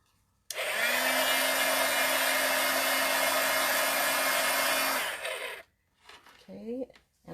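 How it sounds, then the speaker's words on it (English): A heat gun blows over fresh ink on a handmade card: a loud, steady whooshing roar runs for about four and a half seconds, then cuts off, followed by light handling sounds. "I'm going to take my heat gun, and I'm just going to lightly blow over it to make sure that it's set."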